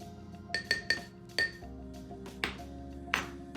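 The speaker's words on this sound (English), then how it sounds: "So the best way to do that is actually stirring it together." A spoon stirs a White Russian cocktail in a glass, giving a handful of bright, ringing clinks against the glass at irregular intervals, close and fairly quiet, with no talk.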